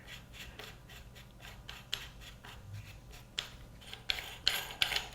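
Threaded piston housing of a Black Aces Tactical Pro bullpup shotgun being hand-unscrewed to the left, giving a series of close, rhythmic metallic rasping turns that grow louder and sharper toward the end, with no talking.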